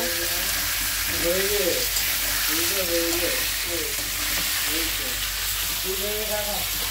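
Food fries in a pan with salt, turmeric and chili added, giving a constant close sizzling hiss while a voice talks intermittently over it.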